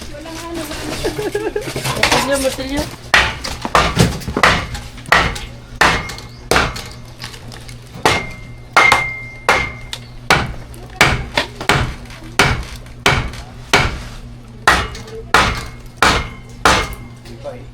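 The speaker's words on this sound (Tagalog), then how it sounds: "Martilyo!" Repeated hammer blows ring out in a steady rhythm, loud and close, with brief talk at the start.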